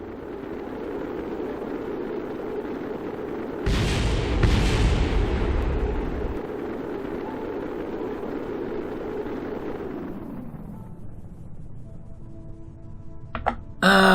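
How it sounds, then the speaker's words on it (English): Game explosions in Kerbal Space Program, a sudden deep boom with a few cracking bursts around four seconds in, heard over a steady rocket-engine roar that fades out toward the end. "things exploded that I wasn't really prepared for"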